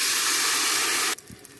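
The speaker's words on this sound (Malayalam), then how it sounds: "ഇതിലേക്ക് നമുക്ക് നമ്മുടെ മാവ് ഒഴിച്ചു കൊടുക്കാം" Batter poured into a hot, oiled pressure cooker on high flame for Malabar kalathappam gives a loud, steady hiss that cuts off abruptly, leaving a few faint clinks.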